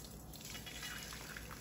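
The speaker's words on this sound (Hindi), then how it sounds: "फेंटने से पहले आपने इस तरह से इसको छान लेना है।" Kashmiri pink tea drips and trickles steadily through a strainer, a soft continuous pattering close by with no voices.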